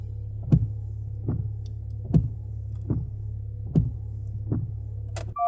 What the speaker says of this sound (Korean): 와이퍼 한번 켜볼게요.